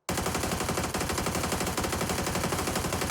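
Rapid automatic gunfire sprays in PUBG while recoil is held down with a controller: dense, evenly spaced shots form one loud, continuous burst that runs the whole time without pause.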